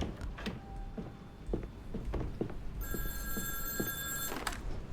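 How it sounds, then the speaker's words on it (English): A phone rings in The Darkest Files game, a sharp electronic trill coming in after a few soft clicks and footsteps, moderately loud against quiet room ambience. "Oh, is that my phone ringing?"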